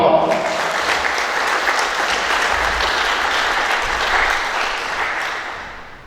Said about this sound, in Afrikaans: Dus kom maar lekker aan die klap voor.